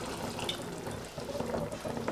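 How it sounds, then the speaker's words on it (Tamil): Water is poured into a pan of potato and pea kurma as it cooks, a short, steady splashing trickle heard alone up close. "இந்த டைம்ல வந்து நம்ம கொஞ்சம் தண்ணி ஆட் பண்ணிக்கலாம்."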